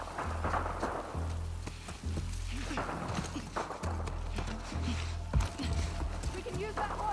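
Horse hooves clip-clop at a run in The Last of Us Part II, a steady galloping rhythm under continuous voices and a low droning score.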